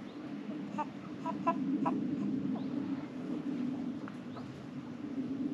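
Marans chickens and roosters in a poultry yard, giving soft repeated clucks and short calls over a steady low background hum, moderately faint.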